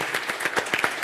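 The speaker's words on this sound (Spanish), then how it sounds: "Un aplauso" Audience at a closing seminar session breaks into applause, a short burst of dense, fairly loud hand clapping from a room full of people.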